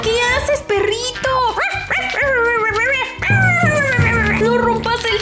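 A puppy whimpers and yips in high, wavering cries over several seconds, close and loud, with an animated voice speaking alongside.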